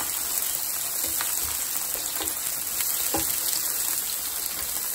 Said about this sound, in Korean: 노릇노릇하게 아주 맛있게 구워주고 있죠?